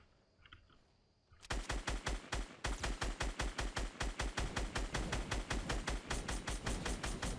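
Rapid automatic gunfire in the video game Fortnite, a fast steady burst of loud shots that starts after a quiet second and runs without pause to the end, with no talk over it.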